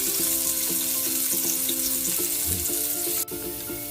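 Chicken for tinola frying in cooking oil in a pan, a steady loud sizzle with crackling pops and a few light utensil clicks, heard alone without talk.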